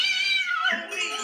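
A cat gives a single drawn-out meow in a dark room, close and fairly loud, the cry sliding downward in pitch over about a second.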